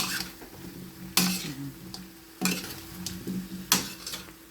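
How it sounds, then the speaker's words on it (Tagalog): Shrimp with broccoli and cauliflower is stirred in a pan, with a soft sizzle under three sharp clanks of a utensil against the metal pan, close and fairly quiet. "Saka po natin halu-haluin."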